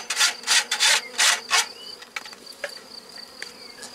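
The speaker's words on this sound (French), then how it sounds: "il reste une poignée d'abeilles là-dedans" Honeybees buzzing at a frameless divisible Layens hive, several loud close buzzing bursts as bees fly past, then a softer steady hum with faint rubbing and scraping sounds.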